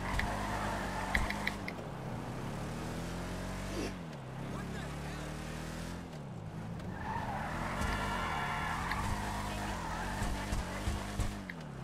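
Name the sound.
car engine revving in a video game, GTA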